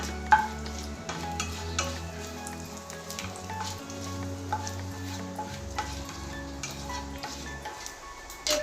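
Panch phoron spices and a bay leaf sizzle in hot oil for kochu shak, a crackling, popping fry with scattered sharp spits and utensil clinks, fairly quiet and with no talking.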